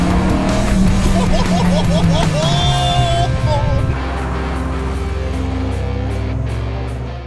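A Dodge Viper GTS muscle car drives at Bicester Heritage with a loud, steady engine roar that drops to a deep, low-pitched drone partway through. A faint voice may sit underneath.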